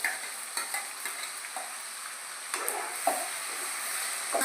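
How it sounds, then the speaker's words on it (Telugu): Fish curry masala stirred in hot oil, a soft steady sizzle with a regular series of light spatula scrapes and taps against the pan, fairly quiet and close. "అంతా నూనెలో వేసి అడుగు ఏమంటకుండా మంచిగా కలబెట్టుకోవాలి"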